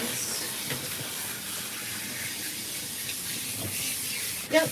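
Running water rinsing during a grooming session, a steady close hiss and splash that continues throughout, ending in a brief louder splash.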